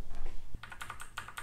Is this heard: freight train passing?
no